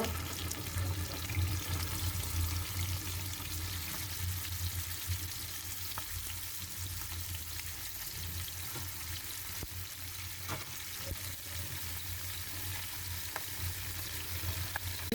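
Shing fish frying in mustard oil in a pan, a steady close sizzle and crackle that runs the whole time with no pauses.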